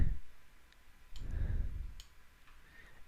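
A computer mouse clicks on a link, a few sharp faint ticks spaced irregularly over a quiet background with low soft thumps.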